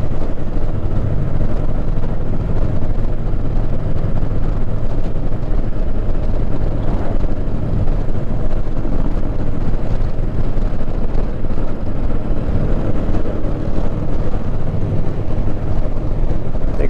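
Heavy wind buffets the microphone over a steady engine drone while riding an Indian Challenger motorcycle in a group of about a dozen bikes on the open road, loud and continuous.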